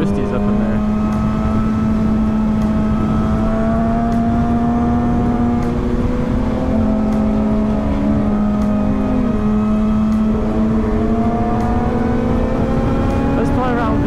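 An Infiniti G35 engine drones loudly and continuously from inside the car, its steady tone holding while higher harmonics sweep up and down as the revs shift; the sound is dense and unbroken throughout.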